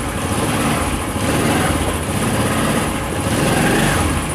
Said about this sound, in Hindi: मैं आपको बाइक स्टार्ट करके चेक करा देता हूँ। बाइक स्टार्ट करते हैं और गियर लगाते हैं